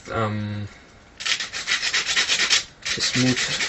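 Carbon-fibre-style QAV-500 quadcopter frame parts being sanded by hand, close and loud rhythmic rubbing strokes in two bursts separated by a short pause, with brief tonal squeaks at the start and end.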